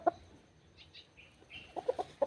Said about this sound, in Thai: แข้งเล็ก เป็นไก่แข้งเล็กแข่งนกครับ